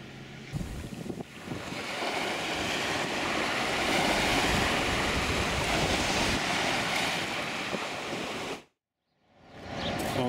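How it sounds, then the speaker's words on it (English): Ocean surf on Maketu Beach on New Zealand's east coast makes a steady, broad roar of waves with heavy wind buffeting the microphone, loud and continuous before cutting out abruptly near the end. "We are on the east coast, Maketu, and this is Maketu Beach."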